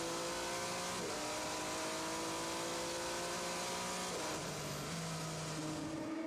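Onboard engine of a Le Mans endurance race car during the 24 Hours of Le Mans, a steady high-pitched drone that drops with each gear change as the car accelerates, loud and continuous with no voices.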